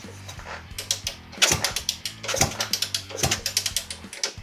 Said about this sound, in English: I'm just going to kick it over a few times, and that's going to squish the ends of the solder